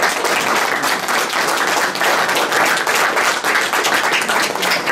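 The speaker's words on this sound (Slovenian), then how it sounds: "tako da bi prosila en velik aplavz za našega Miha" A crowd at a Slovenian entrepreneurship talk gives a big round of applause for Miha Hrovat of Pivovarna Mister, loud, dense and sustained clapping with no let-up.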